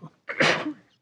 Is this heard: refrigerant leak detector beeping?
no